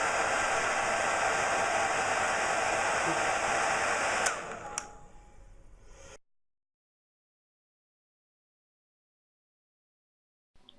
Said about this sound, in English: This electric hairdryer gives off over 100 milligauss when in use.